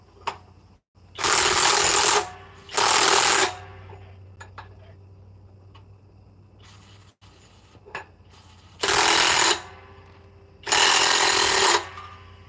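Four loud bursts of a power tool driving and tightening a fastener, each lasting a second or two, are separated by quieter stretches of low background hum and faint handling noise.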